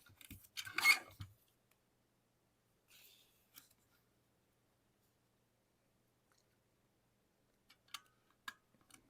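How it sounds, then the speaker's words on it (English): Scissors trim paper for a handmade fold journal. One close, crisp snipping burst comes at the start, then near silence broken by a few faint clicks and rustles. "I think I'm going to trim off a tiny bit more."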